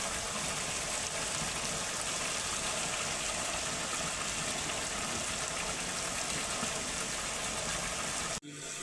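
Sudden stormy rain lashes down outside a mud house as a constant, roaring wash of water that holds level throughout, then cuts off abruptly right at the end.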